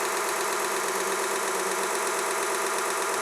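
A Vevor 1x30 belt grinder runs steadily after its belt has been tensioned. Its dense, even whirring hum is loud and close, with no voices over it.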